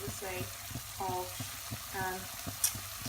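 A Mexican starter fries and sizzles in a pan in a home kitchen, giving a low steady crackle beneath a woman's intermittent speech and a stirring clink.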